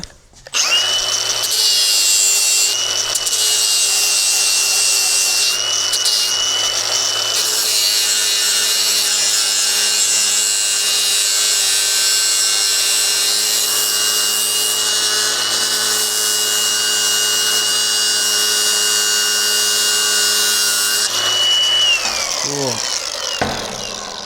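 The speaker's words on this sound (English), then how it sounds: "Then we'll grind this a little bit" A power grinder works on a steering part for a roadster project, running with a loud, continuous high whine that holds almost unbroken for over twenty seconds before winding down.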